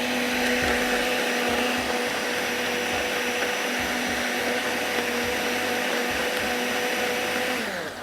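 An electric grinder runs continuously and loudly, finely grinding ingredients for a pasta salad with a steady high-pitched whine throughout, with no talking.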